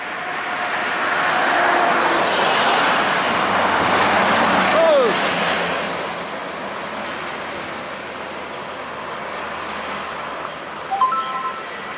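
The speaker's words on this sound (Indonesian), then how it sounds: "Oh, bus pariwisata ini." A tour bus passes on a roadway, a broad engine and tire rumble swelling to a peak midway and then fading as it moves off, with steady traffic noise beneath.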